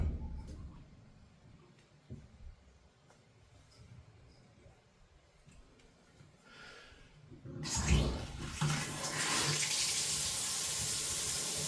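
Water rushes through household plumbing after valves are opened, a sudden loud, steady flow that starts partway through and continues to the end after a quieter stretch of faint handling noises.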